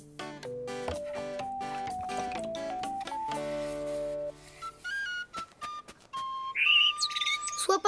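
A small cartoon bird in a French children's animation chirps in a string of bright, whistle-like tweets and pitched calls, clear and close, rising into a busier flurry of chirping near the end, with no talk.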